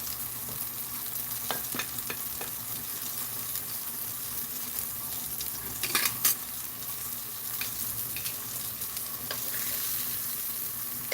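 Nectarines warming in a pan for a dessert quesadilla give a steady, soft, close sizzle, with a few brief louder crackles partway through and no talking.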